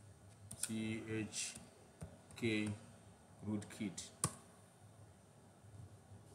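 Keyboard typing of the chkrootkit command, with quiet clicking keystrokes in short clustered bursts beneath a voice that talks over most of the typing.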